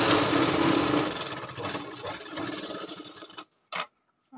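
A sewing machine stitches a lined katori blouse, a dense close mechanical whir running steadily for several seconds, then cutting out into near silence with a brief knock.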